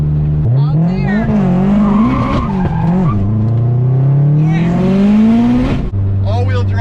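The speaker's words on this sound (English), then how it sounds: "All-wheel drive burnout." An 800HP Subaru STi doing an all-wheel drive burnout, with a loud, close engine roaring and climbing in pitch over screeching tires, and excited voices in the background.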